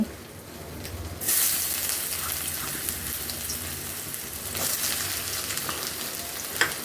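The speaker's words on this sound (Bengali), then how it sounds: "তেল গরম হয়ে গেছে, এখন দিয়ে দিচ্ছি পেঁয়াজ কুচি" Chopped onion dropped into hot oil bursts into a loud, bright sizzle that holds steady as a continuous crackling hiss, with a brief surge partway through.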